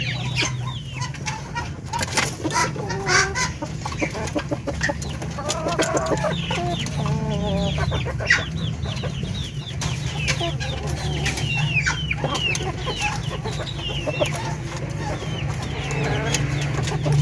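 Breeder chickens cluck steadily in a poultry house, many birds overlapping in a constant busy chatter over a low hum, with a rooster crowing faintly now and then.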